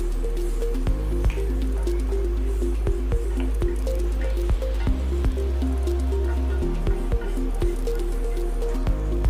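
A paneer and vegetable mix in water simmers in a pan, with irregular soft bubbling pops and squishy drips over a steady low hum.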